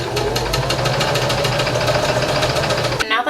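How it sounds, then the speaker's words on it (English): Sewing machine stitching the edges of a shirt with red thread, a steady rapid mechanical whirring with even rhythmic pulses, loud and close, running continuously for about three seconds before stopping abruptly. "I'm just gonna go ahead and run them through the sewing machine"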